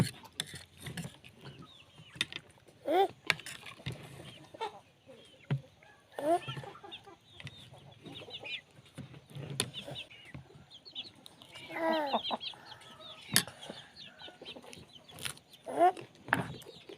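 Chickens cluck and squawk nearby in short scattered bursts, some loud and close, with quiet gaps in between and no talking.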